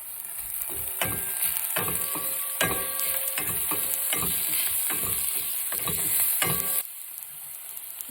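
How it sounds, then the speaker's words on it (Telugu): Turmeric and ginger-garlic paste are stirred into hot oil in a frying pan for eggplant curry. Repeated close scraping knocks of the spoon sound over a steady sizzle, which quiets slightly near the end. "కొద్దిగా పసుపు, అల్లం వెల్లుల్లిపాయ కూడా వేసుకొని మంచిగా కలుపుకోవాలి"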